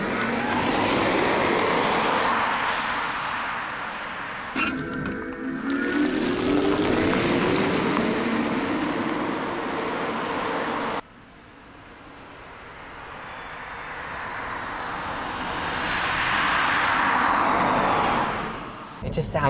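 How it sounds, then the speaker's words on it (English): A MINI Cooper S Electric driving, its electric motor giving a thin, high whine that rises and falls with speed over road and cabin rumble, with talking inside the car. "this gives you another fun noise to play with, and it's that electric motor sound."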